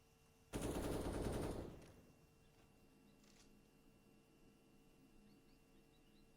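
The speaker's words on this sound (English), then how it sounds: "Kenzie gives away his position by shooting" A rapid burst of automatic gunfire in Counter-Strike at a B bomb site clash, loud for about a second then decaying, followed by faint distant clicks and quiet game ambience.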